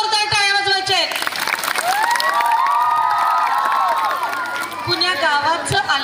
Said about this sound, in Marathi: सर्वांनी जोरदार टाळ्या वाजवायचे.